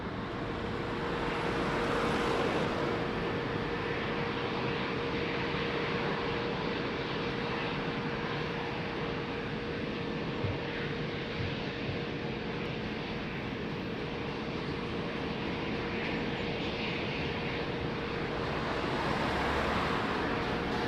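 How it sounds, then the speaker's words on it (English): Etihad Boeing 777 airliner at Lisbon Airport, a steady broadband jet roar that holds loud and even throughout, with no talk over it. "Etihad 777."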